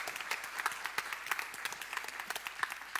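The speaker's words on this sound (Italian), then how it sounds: "un applauso sarebbe gradito" Audience applause at a school event in Venice, a dense, steady patter of many hands clapping throughout with no pauses.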